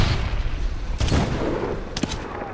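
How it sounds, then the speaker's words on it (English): Two sharp, loud mortar shell blasts land about a second apart in Medal of Honor, each a short broadband burst over a continuous low battlefield rumble. "Mortar inbound."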